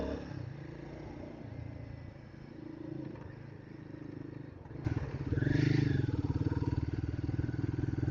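A Royal Enfield Guerrilla 450 motorcycle being ridden, its engine droning steadily, then dipping briefly at a gear change before pulling harder and louder with a rising tone.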